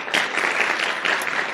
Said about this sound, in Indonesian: tepuk tangan untuk Ibu Nur Ilham